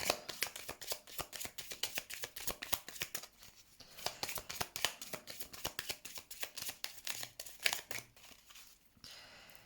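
A deck of tarot cards being shuffled by hand, giving a long run of quick, crisp flicking and slapping strokes in a steady, busy rhythm, close and fairly quiet, with no talk.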